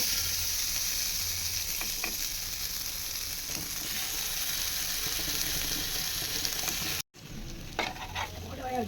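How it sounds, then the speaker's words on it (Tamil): Round potato slices fry in hot oil with a steady, close sizzle that cuts off briefly near the end, then resumes with a few utensil clatters. "உருளைக்கிழங்கு எல்லாத்தையுமே நல்லா சூப்பராக வட்ட வட்ட வடிவில் அருமையாக பொறிச்சு எடுத்துட்டோம்"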